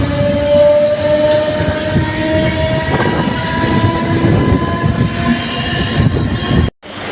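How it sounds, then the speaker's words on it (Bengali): An EMU passenger train on the Katwa–Ahmadpur line rolls steadily past a station platform, a loud continuous rumble with faint clickety-clack and a brief horn, ending abruptly. "ট্রেনটা যাচ্ছে,"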